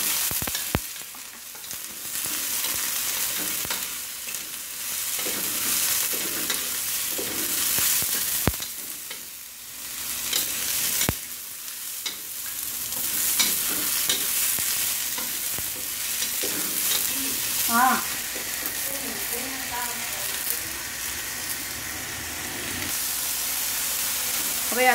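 Long beans stir-fried for tumis tempe in a hot pan, a loud continuous sizzle with repeated scraping and stirring strokes, and a voice speaking briefly in the background.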